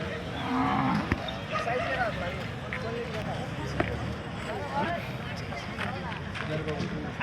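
A pair of Khillar bullocks lows at a cattle sale in Nampur, Satana taluka, Nashik. The deep moos rise over a busy background of voices and farmyard noise, with occasional thumps.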